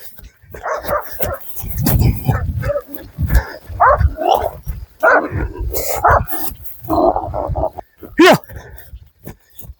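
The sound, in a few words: hunting dogs barking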